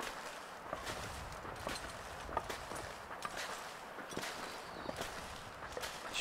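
A bear walks across ice in the game The Long Dark, its heavy footsteps falling in a steady, fairly quiet series of crunching thuds against a low background hiss.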